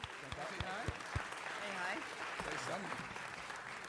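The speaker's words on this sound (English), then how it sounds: "a round of applause." Applause from an audience at a city council meeting, a steady patter of many hands clapping with sharp individual claps near the start, voices mixed in underneath.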